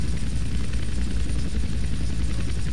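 A helicopter in the game GTA San Andreas, flying during a flight-school lesson, with a steady, loud rotor thump and engine drone throughout, close and continuous with no talking.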